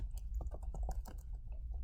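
Rapid typing on a computer keyboard, with close, uneven key clicks in a steady stream and a low background hum, no voices.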